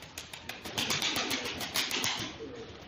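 Pigeons coo softly and steadily nearby, their repeated low calls layered over a faint rustle of wings and movement, with no talking.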